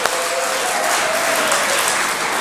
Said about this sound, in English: Lift your hands up, clap your hands.